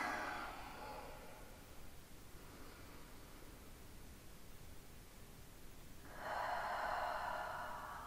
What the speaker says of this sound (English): One more deep breath in and out.